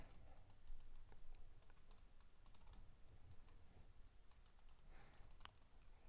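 Steady typing on a computer keyboard, quick irregular key clicks in a continuous run, close and fairly soft against a quiet room.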